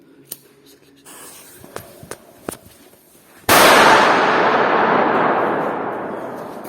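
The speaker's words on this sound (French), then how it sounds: "J'ai fait un pétard." A few small clicks and taps, then a sudden loud firecracker bang inside an abandoned factory, followed by a long, fading crackling hiss.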